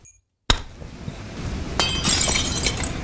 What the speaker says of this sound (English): Oh, the glass is broken somewhere.